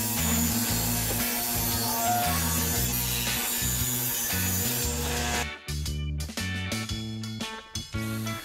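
Jigsaw cutting through pine board for a DIY chair and step stool, a loud continuous buzzing saw with rhythmic shifts in pitch as the blade works, briefly stopping and restarting near the end.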